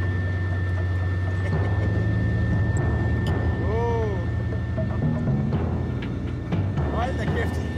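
Heavy construction machine engine revving as throttle is applied, loud and close with a steady low rumble and a sustained high whine, while people talk over it.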